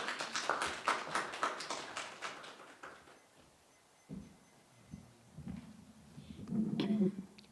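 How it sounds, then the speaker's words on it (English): Faint applause at a Sunday church service: a brief patter of clapping from the congregation that quickly fades, followed by quiet room sounds and low murmuring. "Let's give her a round of applause."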